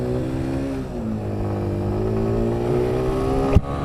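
A CFMoto Leader 150cc motorcycle is ridden at full throttle, its engine note droning steadily and slowly climbing in pitch, with loud wind and road noise and a brief knock near the end.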